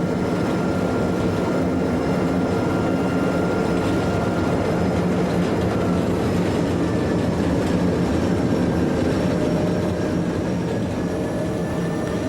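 A 1200 class diesel locomotive on a local Algarve service crosses at Loulé station in Portugal, a steady rumbling drone with faint rail clatter and a thin whine, continuous and fairly near throughout.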